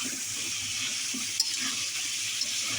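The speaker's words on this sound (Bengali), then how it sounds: "নিজের পোষা মুরগি রান্না করছি কষিয়ে রসিয়ে" Home-raised chicken braises in a zinc wok, a low, steady sizzle with soft stirring and a couple of faint clinks, fairly quiet and without talk.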